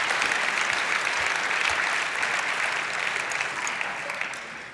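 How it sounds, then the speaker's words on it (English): Conference audience at a security talk gives a warm round of applause, a dense, steady roar of many hands filling the hall, holding strong before gradually tapering off. "Please give him a warm round of applause."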